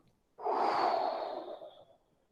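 A long, forceful exhale during a qi gong breathing exercise, a single breathy rush that swells suddenly, holds steady, then tapers away over about a second and a half, close and clear with no talk.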